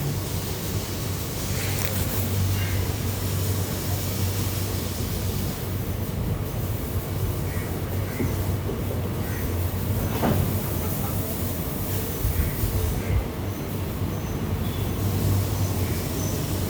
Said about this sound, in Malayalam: ട്രെയിൻ അങ്ങനെ പോയിക്കൊണ്ടിരിക്കുകയാണ്